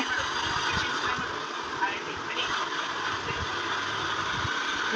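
A scooter engine runs steadily during a first-time ride, a constant mid-pitched hum with a faint vibration that stays at an even level, while people talk over it.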